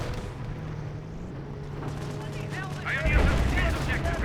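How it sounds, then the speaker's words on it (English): Gunfire crackles around Pioneers in the Company of Heroes game, with a sustained din of battle and a louder burst of shots and impacts near the end, under a continuous rumble. "Pioneers receiving some fire"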